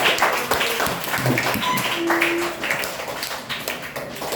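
A group claps hands for a classmate in a school lesson on cleanliness, steady dense clapping throughout with faint voices mixed in.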